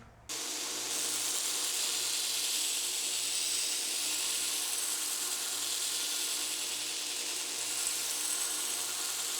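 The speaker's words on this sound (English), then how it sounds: "I'm going to grind to that, and then we'll bring the bevels up from there." Steel bevels being ground on a 5160 steel knife blade, a steady, loud, continuous hissing grind that starts abruptly and runs unbroken throughout, with no talking.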